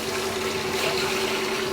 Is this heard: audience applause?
no